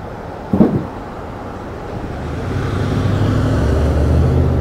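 A car drives along a road in Alderson, West Virginia, its tyre and engine rumble rising steadily as it approaches, after a brief knock near the start.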